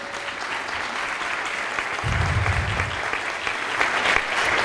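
Conference audience applause at a Colombia 4.0 digital security session, a loud, continuous crackle of many hands clapping that swells slightly toward the end, with a brief low rumble partway through.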